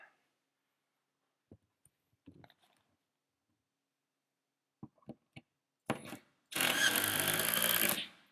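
A power drill driving screws into a plywood shop wall: a few sparse taps and clicks of handling, short bursts of the drill, then one sustained loud whir of a screw being driven home, close by with no talk.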